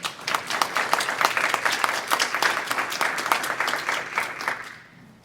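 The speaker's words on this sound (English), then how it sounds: "could we still give them all a round of applause?" A room full of people at a board meeting clapping, lively and fairly close, with individual claps audible before the applause tapers off at the end.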